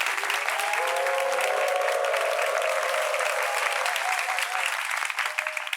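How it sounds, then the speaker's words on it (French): A studio audience at an Ivorian television talk show breaks into sustained applause, dense and steady throughout, with a faint tonal whistle or cheer briefly over it. "Applaudissements pour vous-même, chers amis du public"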